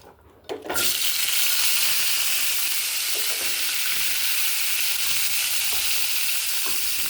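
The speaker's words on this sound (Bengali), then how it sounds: "এবারে ওই তেলের মধ্যে এবার পেঁয়াজ কলিটা ভেজে নেব" Onion stalks drop into hot oil and burst into a loud, close, steady sizzle that holds evenly for several seconds after a brief quieter start.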